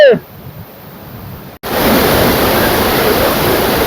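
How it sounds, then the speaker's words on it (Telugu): A loud forest waterfall in thick jungle roars as a steady, dense wash of noise. It starts after a brief quieter stretch with a faint voice and then runs unbroken and close. "కిందన వాటర్ ఫాల్ సౌండ్ కూడా చాలా ఎక్కువగా వస్తుంది"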